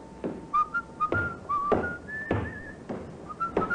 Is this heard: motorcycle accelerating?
no